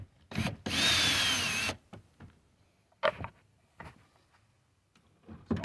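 Power drill backing out tow mirror bolts on a Chevy Silverado, one long loud whir followed by several short, fainter bursts and clicks, close by with no talking.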